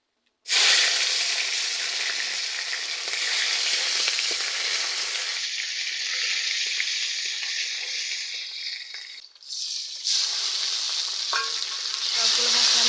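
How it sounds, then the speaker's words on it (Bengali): Spices for egg curry sauté in a hot frying pan, a loud, close, continuous sizzle with stirring scrapes that briefly dips and drops off near the end before resuming. "সবগুলো মশলা আমি দিয়ে দিলাম, দিয়ে কষিয়ে নিচ্ছি"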